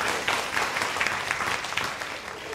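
An audience claps after a speaker's prize for Student of the Year is announced, a steady full burst of applause from many hands filling the room for a couple of seconds, with no voices above it.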